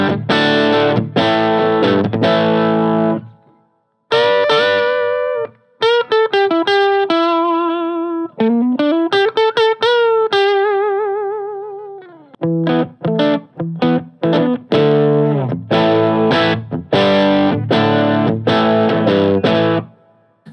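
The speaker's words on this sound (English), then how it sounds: "So if I play through now, you'll hear that it's giving a nice kind of subtly overdriven," Electric guitar played through a TC Electronic Mojo Mojo overdrive pedal, giving a loud, warm, subtly overdriven tone with strummed chords, bent single notes and short riffs, played alone with brief pauses.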